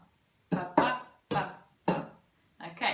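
Five bare-hand taps on a pair of bongo drums in a pattern of two quick strikes, a pause, then two more and a final double hit, each note close, loud and ringing briefly, with no voice.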